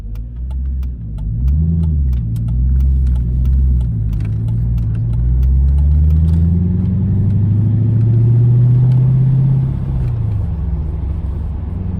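Mercedes C55 AMG with its M113 V8 and a swapped six-speed manual pulls hard through the gears, a deep, close rumble rising and dropping with each upshift, heard from inside the car.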